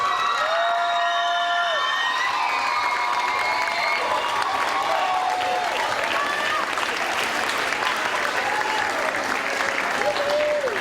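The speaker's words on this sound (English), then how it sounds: "give a rounding round of applause to these young musicians called the Bahamas" Sustained audience applause for the Bahamas All-Stars, a group of young musicians, loud and steady throughout with crowd cheering, whoops and shouts mixed in, and a voice or two calling out over the clapping.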